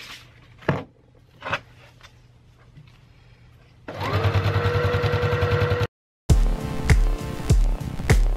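A home sewing machine stitching ribbon trim onto a tulle tutu whirs steadily for about two seconds after a few soft clicks, then, following a short gap, runs again in a louder close-up burst.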